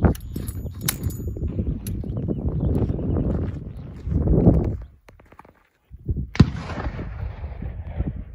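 An 1866 Peabody rifle chambered in .50 rimfire lets off a single sharp, booming report after a brief hush, set among nearby shuffling and handling noises outdoors.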